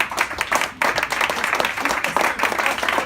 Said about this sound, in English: First of all, big round of applause